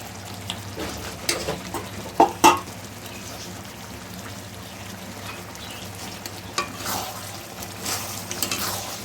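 Soya chunks go into a pan of frying vegetarian masala, with a low steady sizzle broken by a few loud clanks of a utensil against the pan and occasional stirring scrapes.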